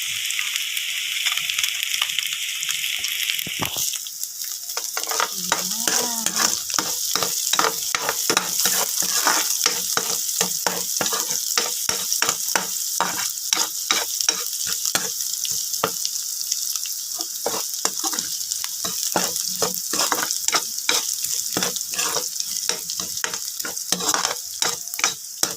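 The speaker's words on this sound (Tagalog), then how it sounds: "Igisa na natin sa bawang sibuyas" Garlic sautés in a hot pan in a steady loud sizzle, while a spatula scrapes the pan again and again in quick, sharp strokes that run the whole time.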